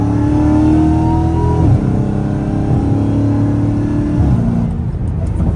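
A straight-piped Dodge Challenger Hellcat Redeye roars along a highway, its loud engine note rising and dropping through shifts in a continuous close-up drone with a whirring undertone.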